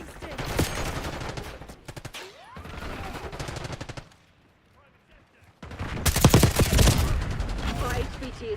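Rapid bursts of automatic gunfire crackle in the Black Ops video game, dense rattling volleys with a short lull midway before another heavy, loud barrage, mixed with game voices.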